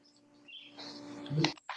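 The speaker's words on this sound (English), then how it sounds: "I hear the birds chirping." Faint bird chirps outdoors, a few short tweets over quiet background ambience during a zoning board meeting, with a louder burst near the end.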